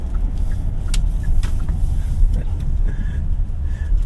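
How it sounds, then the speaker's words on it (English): A Kia Carnival minivan with a 2.2 diesel engine drives along, giving a steady low engine and road rumble with wind noise throughout and no talk. "that was a quick drive off this Kia Carnival, a stylish minivan actually"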